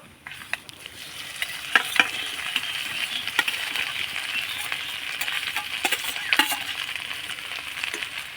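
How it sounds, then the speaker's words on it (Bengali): Whole spices tempering in hot oil in a pan, stirred before mashed boiled potatoes go in; a steady hissing sizzle runs throughout, broken by sharp metallic taps and scrapes of the spoon. "এবার ফোড়নটা হালকা নাড়াচাড়া করে ভেজে নেব"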